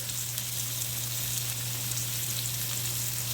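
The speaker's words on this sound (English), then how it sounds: "we're about to drop this good old steak in. The pan is nice and hot." Steak frying in a hot pan, a steady close hiss and crackle of sizzling fat with a low hum underneath, no talking.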